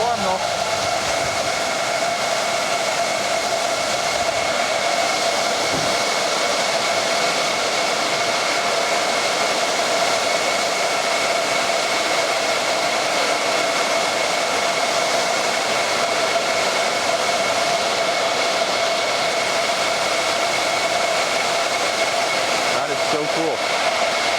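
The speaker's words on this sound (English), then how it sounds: "And so there's fans in here on that side?" Steady, loud roar of cooling fans pushing filtered air through a Bitcoin mining facility at Hut 8, a continuous broadband whoosh with a constant hum, with brief talk faintly underneath.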